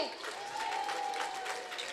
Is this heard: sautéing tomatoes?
no